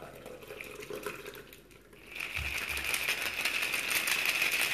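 A shaken drink mixture is poured, a steady bright splashing trickle that starts after a brief lull and grows fuller, close and continuous, with faint rattling at the start.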